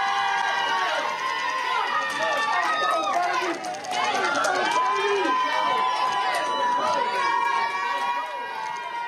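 Basketball team and supporters cheering and shouting in celebration after being selected for March Madness, a loud, sustained crowd roar with excited voices and whoops running throughout, dipping briefly midway.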